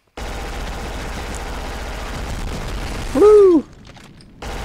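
MP5 submachine gun fire in the shooter video game Black: a sustained, dense burst of rapid shots runs for several seconds, then a brief whooping exclamation from a voice before a short quiet gap.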